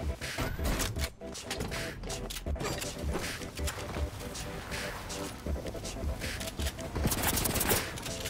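Rapid automatic gunfire bursts and single shots in the video game Fortnite, loud and dense throughout, with a player's voice talking over the shooting.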